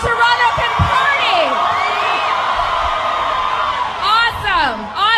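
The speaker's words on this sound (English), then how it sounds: "So Toronto, scream and let everyone know how Toronto can party." Concert crowd at an outdoor block party in Toronto screaming, whooping and cheering, a dense mass of overlapping high yells rising in waves, loud and continuous.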